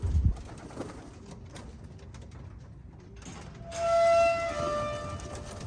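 Pigeons coo softly in the background at a one-loft pigeon race in cold weather, joined later by brighter chirping bird calls over a steady low rumble; no one speaks.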